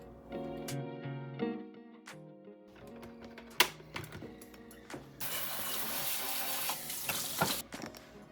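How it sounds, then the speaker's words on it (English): Mixer beaters rinsed under a running kitchen tap, with clinks and knocks of metal before a steady hiss of water pours in during the latter half, close and fairly quiet. "I rinsed off my beaters for the next round."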